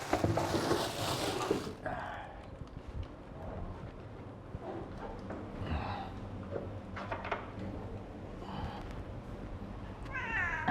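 A cat meows several times at moderate distance, short separate cries spread over about ten seconds, after a burst of louder noise at the start and with quiet background sounds between.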